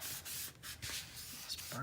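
A bone folder burnishes paper flat for a mini album craft project, giving a close, soft, scratchy rubbing in short back-and-forth strokes.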